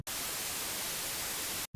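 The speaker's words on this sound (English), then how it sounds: "In retro music, white noise is used as percussion." A short, steady burst of loud white-noise hiss starts and stops abruptly, spread evenly across the spectrum with no tone in it.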